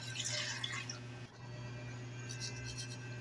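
Water runs and splashes steadily into a cooking pot holding pork chops for nilaga, a soft continuous pour with a low hum underneath, then quieter trickling.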